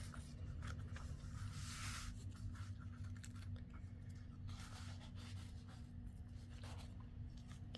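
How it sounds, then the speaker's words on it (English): Scissors trim a paper journal page up close, making soft papery rubbing and snipping strokes over a quiet, steady background hiss with no talking. "I gotta do a little trimming here"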